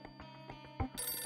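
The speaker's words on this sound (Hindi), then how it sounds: "सुहाना का फोन आया लगता है।" A mobile phone rings indoors with a repeating electronic ringtone, pulsing steadily and fairly faint, alone without talk.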